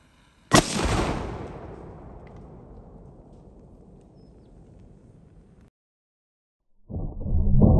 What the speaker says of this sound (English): we're gonna see what happens when we touch off Evan's last Mega Enigma round against that non-dairy creamer